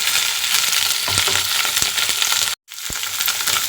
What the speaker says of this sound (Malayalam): ഇനി നമ്മൾ നേരത്തെ അരിഞ്ഞു വെച്ച ആ വെണ്ടയ്ക്ക ഇതിലേക്ക് ചേർത്ത് കൊടുക്കാം ഇനി ഈ വെണ്ടയ്ക്ക നല്ലതുപോലെ ഒന്ന് ഇളക്കി ഫ്രൈ ചെയ്തെടുക്കണം